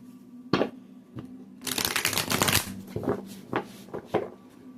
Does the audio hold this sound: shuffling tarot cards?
yes